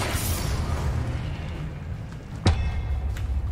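A single sharp spell blast pops out in Hogwarts Legacy, a brief bright burst over a steady low game ambience and droning background.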